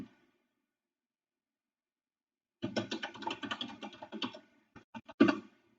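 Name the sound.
typing on a computer keyboard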